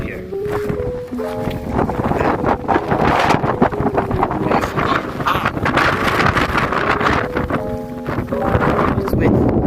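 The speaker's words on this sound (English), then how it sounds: "It's windy. It's windy." Strong desert wind among Joshua trees roars and buffets the microphone steadily and loudly throughout, while people talk over the rushing noise.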